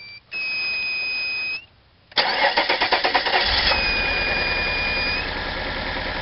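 A Mazda Bongo engine with new HT leads, plugs, distributor cap, rotor arm and coil, but still hard to start, gives a high whine, then a burst of rhythmic starter cranking and a rough, unsteady rumble, close and loud.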